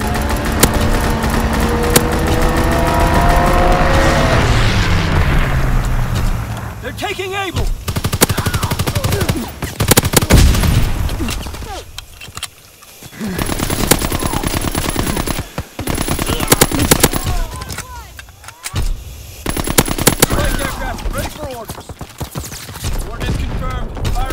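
Fighter plane strafing in Call of Duty WWII, with dense bursts of machine-gun fire and a passing engine roar, loud and close, followed by scattered gunshots and shuffling battle noise.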